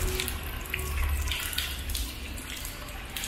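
Warm water pours steadily from the rinse showers at a swimming pool in Purwokerto, a continuous close splashing hiss with faint echoing background activity.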